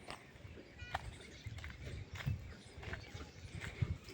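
A buffalo walks past on a village path, its hooves landing in a loose, uneven clip-clop of soft thuds, close by and moderately loud over a murmur of background ambience.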